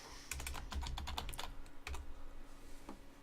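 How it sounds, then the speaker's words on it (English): Quick keystrokes patter on a computer keyboard, a short close-up run of typing that trails off into a few last isolated taps. "So I'm just going to type in Google Calendar"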